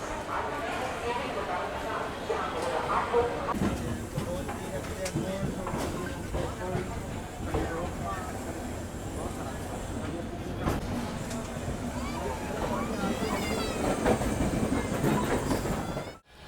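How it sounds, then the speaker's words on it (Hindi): Kaifiyat Express sleeper passenger train from Delhi toward Azamgarh running on rails, a steady continuous rumble and rattle of the coach with people talking and a dog barking at times. "बिल्कुल निर्धारित समय 8:25 पर हमारी ट्रेन निकल चुकी है।"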